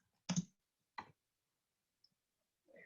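Clicks of typing on a computer keyboard while entering a word into a sentiment search; a few sparse, separate key taps at close range, with silence between them.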